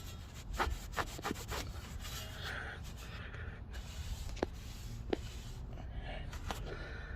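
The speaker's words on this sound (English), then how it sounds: "we're going to take our towel and we're going to just clean this off as best as we can of any grease, old grease" A towel wipes old grease off a front brake part on a 1997 Dodge Ram B2500 van, a soft repeated rubbing and scuffing close up, with a few sharp taps.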